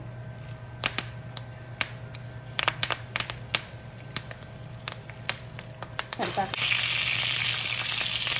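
Dried red chillies, chilli seeds and curry leaves frying in hot oil, a soft sizzle with scattered sharp crackles and pops, louder and more continuous hiss near the end, close up with no talk.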